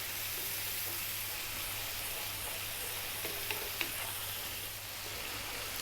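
Spices sizzle and crackle in hot oil over high heat while being stirred continuously in the pan for an egg dal, a steady close frying hiss with a few faint scrapes of the spoon, no talking.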